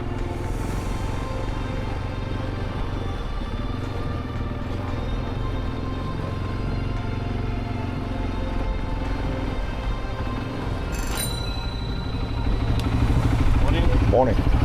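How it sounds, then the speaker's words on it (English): An ATV four-wheeler rides along the Santorini cliffs, its engine a steady, loud drone with wind rumble throughout, growing somewhat louder toward the end. "As I'm riding this four-wheeler along these cliffs"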